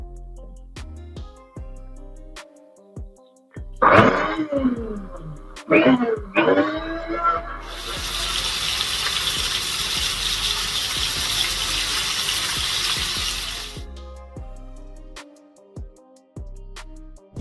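Water pours steadily for several seconds into a blender jar with garlic cloves after a few clattering kitchen knocks, a continuous splashing gush that stops abruptly.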